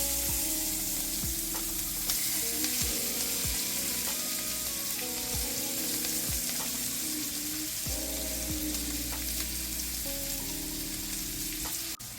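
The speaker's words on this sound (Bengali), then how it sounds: "রসুন কুচি দিয়ে আধা মিনিট মতো ভেজে নিলাম মাঝারি জালে" Chopped garlic fries in a pan over medium heat in a steady, close sizzle with occasional stirring clicks, and a constant low hum runs underneath.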